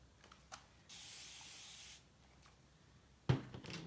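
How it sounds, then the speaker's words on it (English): A spray bottle mists water onto an ink-and-paste transfer: a single sustained spray of about a second, followed by faint handling clicks and rubbing, then a sharper knock near the end, all quiet and close. "Flip it over, spray it,"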